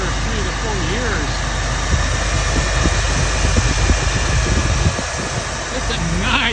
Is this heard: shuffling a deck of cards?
no